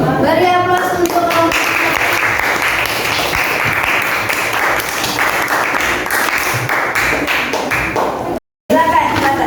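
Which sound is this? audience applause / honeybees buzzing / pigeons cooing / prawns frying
audience applause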